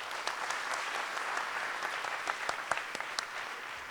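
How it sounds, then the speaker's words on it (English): Audience in a hall applauds at a talk event, a full round of clapping with crisp individual claps popping out of the steady roar, sustained throughout without anyone speaking. "Give them a round of applause."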